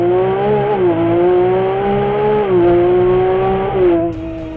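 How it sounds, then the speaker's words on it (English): A Ferrari 296 GTB accelerates hard, its engine and exhaust note rising loud and steady, with a few brief dips in pitch as it shifts up through the gears. "let's try to make an acceleration and listen to the sound of the"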